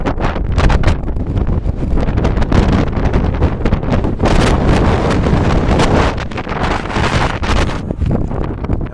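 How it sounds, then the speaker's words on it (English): Strong wind roaring across exposed mountain cliffs on a backpacking hike, loud and continuous buffeting against the microphone throughout, with no pause. "The wind is brutal."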